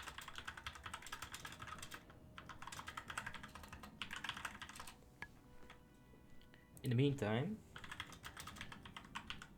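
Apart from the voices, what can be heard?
computer keyboard typing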